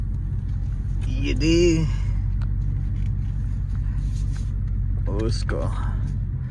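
A Dodge SRT car's engine rumbles steadily from inside the cabin during a night drive in Dallas, Texas, a constant low drone with a brief swell, while someone talks over it.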